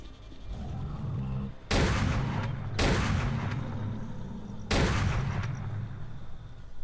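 Three loud, sharp gunshot bursts from armor-piercing rounds in the S.T.A.L.K.E.R.: Clear Sky video game, set in Dark Valley, fired over a steady ambient drone at uneven spacing with no talk.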